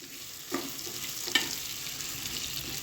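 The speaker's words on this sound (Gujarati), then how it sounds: "અને હવે આપણે બટેટાને 7 થી 8 મિનિટ સુધી આવી જ રીતે આમાં ફ્રાય થવા દેશું." Potatoes fry in oil in a pan for a Punjabi-style potato curry, a soft, steady sizzle with two sharper knocks of a spoon against the pan.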